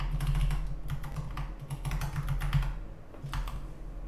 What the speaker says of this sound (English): Hitting all kinds of keys.